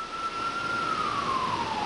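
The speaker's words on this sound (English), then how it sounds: "Man, those sirens ever give me the creeps." A distant emergency vehicle siren about a block away wails in a single steady, slowly falling tone over faint background noise, with no talking.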